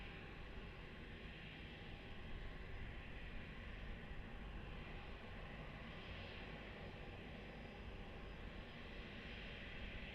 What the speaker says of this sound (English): this aircraft has the Queen of Jordan on board, arriving for Web Summit in Lisbon